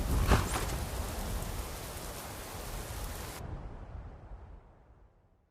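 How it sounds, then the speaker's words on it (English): Steady rain pours down in the video game Skyrim, a dense, even wash of noise that slowly fades toward the end. "Why is it always raining?"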